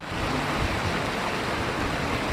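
Strong river current at Rishikesh roars in a dense, continuous rush of water, loud and close, with no voices.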